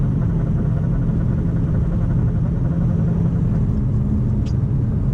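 A 2018-2019 Mustang GT with 1-7/8 inch headers into a 3-inch cat and active exhaust, idling with a steady, loud, deep rumble throughout, close by and with no talk.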